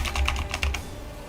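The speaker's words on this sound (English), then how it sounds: "My keyboard does sound nice." A computer keyboard clatters with a quick burst of about six close, crisp key clicks, then stops.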